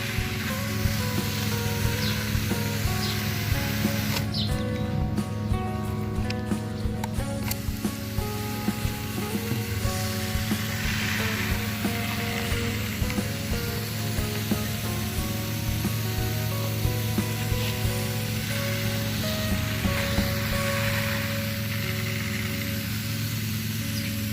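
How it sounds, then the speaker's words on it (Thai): Homemade ant and aphid repellent is sprayed onto plants with curled leaves, giving a sustained hissing spray over a steady tonal background hum, fairly close and continuous. "กันมดนะคะฉีดเลยค่ะ กันมดกันเพี้ย กันแมลงนะคะฉีดเลย"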